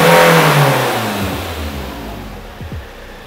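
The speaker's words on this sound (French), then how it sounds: "Accélération numéro 1." Fiat Multipla engine revved hard during a roadworthiness inspection acceleration test, a loud close rev that falls away, followed by two quick shorter blips near the end.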